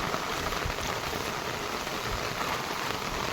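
Heavy rain pouring down during a village flood, a dense, steady hiss of downpour drumming on surfaces, unbroken and fairly loud throughout.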